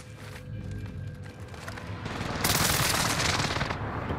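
Video game gunfire as enemies shoot from a prison rooftop, a loud sustained burst of rapid automatic shots building after quieter scattered fire, close and dense.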